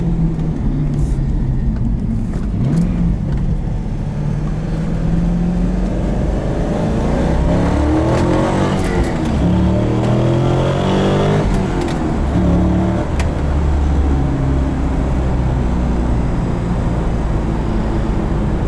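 A 2001 Chevrolet Corvette C5 Z06 with a manual gearbox drones loudly from inside the cabin, its engine rising and falling as it revs through gear shifts, with a few faint clicks over the steady roar.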